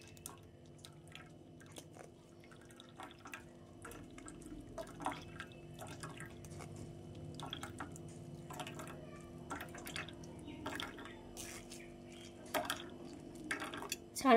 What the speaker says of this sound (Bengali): এইভাবে আমি চামচ দিয়ে জলটা ঝরিয়ে নেব চিপে।